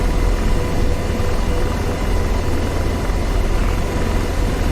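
An Apache AH-64D helicopter sets down on an aircraft carrier in the DCS World flight game, its engine and rotor making a loud, continuous broadband roar that stays steady and close throughout.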